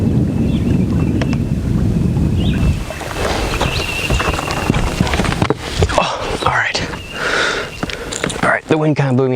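Wind gusting outdoors while fishing from a boat near a bank, heavy buffeting rumble on the microphone, easing midway into rustling and creaking from the boat.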